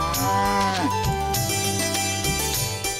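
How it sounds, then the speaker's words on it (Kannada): Cattle moo loudly and close by in a TV drama scene, several overlapping long low calls sliding in pitch, one after another, over a music bed. "ನಮ್ಮ ದನಗಳು ಸುರಕ್ಷಿತವಾಗಿ ಬಂದಿದ್ದಾವೆ."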